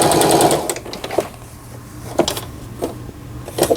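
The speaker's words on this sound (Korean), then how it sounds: "10번 세발뜨기 바느질." A Singer 3722 household sewing machine running a three-step zigzag stitch in short bursts, with quick rhythmic mechanical clatter that starts and stops, close and fairly loud.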